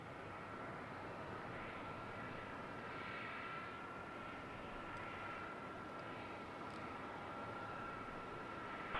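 A Jetstar airliner takes off from runway 34 at Melbourne Airport, its engines a steady, fairly distant roar with a broad rushing hiss that holds evenly.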